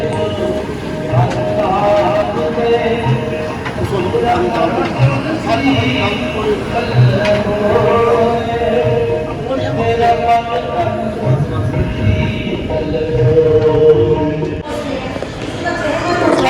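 A train at a railway station gives off a loud, continuous rumble and clatter of rail cars, with people talking nearby throughout.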